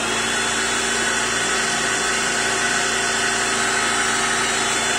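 A Hoover Air 2 in 1 vacuum cleaner running on suction alone without the beater bar: a steady, loud, even whirring drone that holds unchanged throughout, with no talking.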